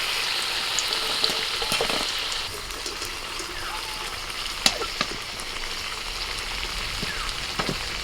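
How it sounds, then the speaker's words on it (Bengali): Potatoes crackling and spitting in hot oil, a dense close sizzle that runs on with occasional sharp pops and faint clicks. "আলুগুলোকে আমি মিনিট পাঁচেক ভেজে নিয়েছি দেখুন আলুর গায়ে হালকা কালার চলে এসেছে"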